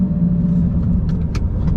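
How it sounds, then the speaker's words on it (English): The engine of a Lamborghini Gallardo rumbles steadily and close by, a low, loud, continuous drone with no talking over it. "that motor just behind you making all this noise and just amazing sounds"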